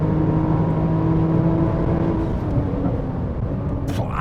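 A Nissan GT-R Nismo accelerates hard down the start-finish straight at the Lausitzring, a loud continuous engine roar heard from inside the car, steady and droning with a slight dip toward the end.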